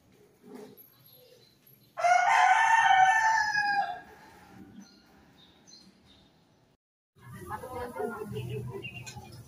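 A rooster crows loudly and clearly for about two seconds, followed by quieter background noise and later a burst of voices or clucking nearby.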